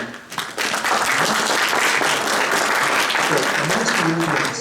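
Sustained audience applause, dense and loud, with many hands clapping steadily throughout and a faint murmur of crowd noise underneath.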